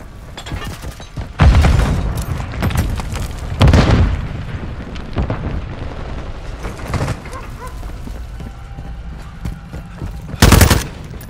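Call of Duty combat: heavy booming blasts and bursts of gunfire, including a grenade explosion, hit loudly at intervals over a rumbling battlefield backdrop, with occasional shouted voices.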